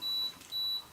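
A camera's self-timer gives two short high-pitched electronic beeps in quick succession, clear and fairly faint over a quiet background.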